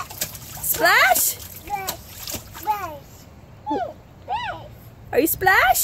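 A child splashing in puddles, with wet slaps and splatters breaking out in bursts between the high, chirpy calls of a young child and an adult talking close by.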